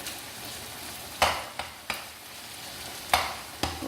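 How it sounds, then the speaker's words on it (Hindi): Minced keema is stirred and fried over high heat on a tawa. A soft, steady sizzle runs underneath several sharp scrapes and clacks of the spatula, spaced a second or two apart, with no talking. "एक मिनट इसे मिक्स करेंगे, भूनेंगे"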